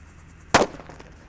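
A single sharp firecracker (mercon) bang cracks out over quiet background noise, with a brief fading rattle afterward.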